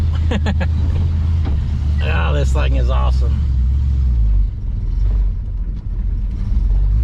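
A 1974 IH Scout's engine idles with a steady low rumble throughout, while a person speaks excitedly over it near the start.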